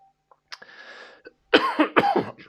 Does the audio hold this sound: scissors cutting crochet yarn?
no